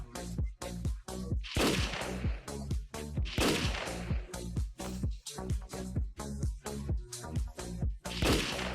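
Video game gunfire rings out as rapid, irregular bursts of sharp shots, loud and crowded together across the whole stretch.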